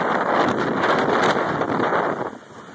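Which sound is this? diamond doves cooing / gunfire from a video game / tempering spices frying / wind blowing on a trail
wind blowing on a trail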